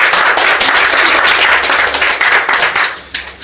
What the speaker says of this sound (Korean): 다시 한번 축하의 박수를 부탁드리겠습니다